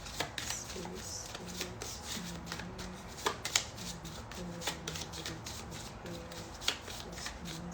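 A deck of tarot-style cards is shuffled by hand, giving repeated soft riffling and snapping bursts in an irregular rhythm, close and fairly quiet.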